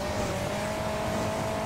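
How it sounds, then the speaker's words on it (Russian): A car speeding on nitro in the Hill Climb Racing 2 video game gives a steady, high engine whine under a dense roar, continuous and fairly quiet with no talk. "Это чувак на нитро там шпарит."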